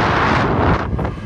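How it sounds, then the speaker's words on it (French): Wind buffets the microphone on a street in Ginza, Tokyo, a loud, dense rumbling roar that fills the short moment, close and constant without speech. "Il y a du vent ici."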